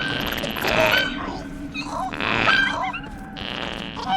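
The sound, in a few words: fart noises from the video game Journey to the Savage Planet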